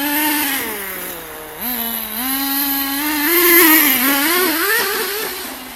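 A nitro RC car engine running steadily with a buzzing, rising and falling pitch as the throttle varies, loud and close, short of full throttle.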